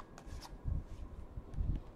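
Tarot cards are shuffled by hand in a few soft riffling bursts with light papery flicks, close and quiet, and no one speaks.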